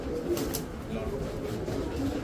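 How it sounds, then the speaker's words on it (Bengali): An army breed pigeon coos softly in repeated low, throaty calls, close by with light background noise. "কি কবুতর এটা ভাই?"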